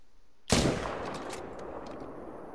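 A single heavy boom from a .300 Magnum rifle aimed at a bison in a hunting video game goes off close and loud. A long rumbling tail fades under steady game ambience.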